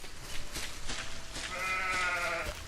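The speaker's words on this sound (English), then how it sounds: "Oh, there's another sheep." A sheep in the video game Solarpunk gives a wavering bleat near the end, heard over shuffling game sounds and soft thumps.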